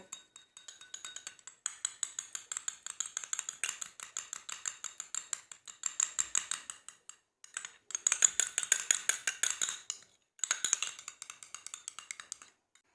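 A metal spoon mixing homemade carrot cream ingredients in a small bowl, rapid rhythmic clinking and tapping in close, bright bursts with a few short pauses.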